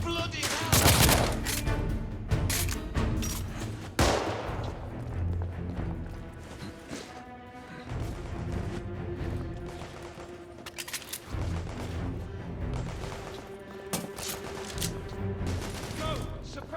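Gunfire in the video game The Order: 1886, with repeated loud bursts of shots and rapid volleys across a busy street fight, layered with shouting voices and clattering mechanical sounds.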